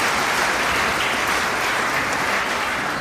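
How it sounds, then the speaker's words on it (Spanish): A church congregation applauds the national team in a dense, steady round of clapping that stays loud and even throughout, with no talk over it. "tenemos el derecho y la alegría de darle un aplauso a nuestra selección"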